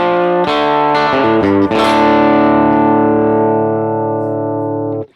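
An electric guitar played through a TONEX capture of a Vox AC30 amp rings out a few quick strummed chords, then lets one chord sustain with a slightly broken-up, reverberant tone that slowly fades before cutting off.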